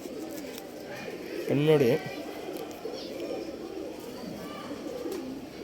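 A pigeon's soft, throaty coo rises briefly in the middle, close by, among pigeons in a loft, while someone speaks throughout over a faint background hum.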